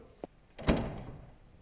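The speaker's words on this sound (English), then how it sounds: "Aya, open the door" A door opening in a TV drama, a soft rattle and then one firm clunk that trails off, close and brief.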